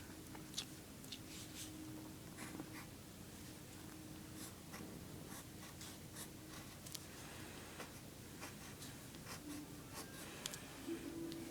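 A pencil scratches across paper in close, steady strokes with short pauses between them, quiet and dry with no talking.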